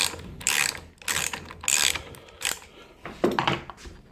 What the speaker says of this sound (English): So that's a 19-inch socket on here.